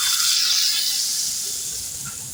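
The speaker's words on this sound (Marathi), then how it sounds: "बघा, आपली फोडणी छान झालेली आहे" Hot oil sizzling loudly with asafoetida and red chillies as a tempering for sambar, a bright steady hiss that starts strong and slowly eases off, close up and alone.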